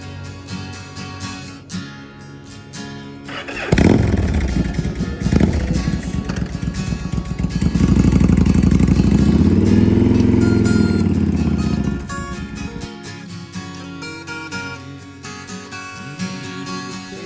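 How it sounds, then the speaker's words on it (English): A custom flame-painted hotrod motorcycle engine fires up and roars loudly for several seconds as the bike rides off, its pitch rising and falling before dropping back to quieter surroundings. "So I'm going to test drive our motorcycle now."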